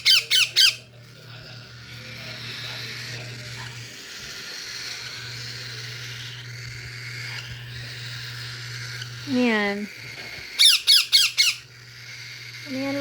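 Loud, harsh squawks from a pet Indian Ringneck and Lutino Cockatiel burst out at the start and again near the end, with a brief spoken word and a steady low hum between.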